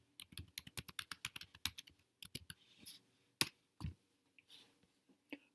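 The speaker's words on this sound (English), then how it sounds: "For that, let's type Windows 10 ISO." Someone types on a computer keyboard nearby in a quick run of crisp key clicks, then a few slower, scattered presses with short pauses between them. No one speaks.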